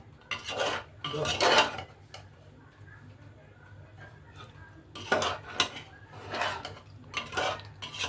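A spoon scrapes and clinks against a pot while ground spices are stirred into mutton rezala, in short bursts of metallic scraping with a voice talking quietly between them.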